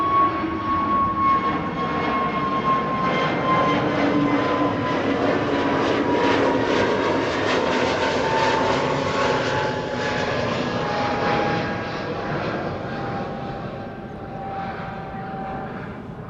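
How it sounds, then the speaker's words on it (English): An EasyJet Airbus A320neo jet departs Amsterdam Schiphol, its engines a broad sustained roar with a whining tone, loud and steady before slowly fading as it climbs away. "This is an EasyJet A320neo Tunis, which is nice."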